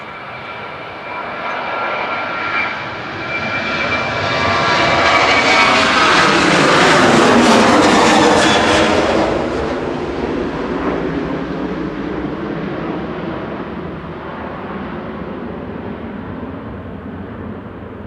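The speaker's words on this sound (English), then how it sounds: "So, Ryanair's GRUKA departing to Tangier now, 737-800" A Ryanair Boeing 737-800 departs Manchester Airport, its jet roar swelling to a loud peak midway and then fading to a steady distant rumble.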